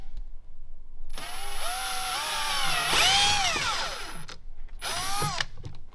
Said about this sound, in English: I'm going to drill right from there, right into the back side here.